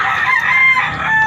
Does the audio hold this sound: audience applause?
no